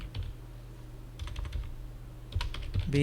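Keys clack on a computer keyboard during data entry in Tally Prime accounting software, scattered close taps in short bursts with no speech.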